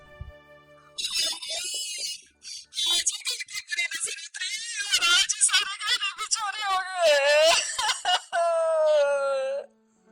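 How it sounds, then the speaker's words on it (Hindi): A woman wails and sobs loudly, her crying rising and falling in drawn-out, quavering cries over several seconds. "फिर एक दिन रंजना के पड़ोस से भी रोने की आवाज आती है।"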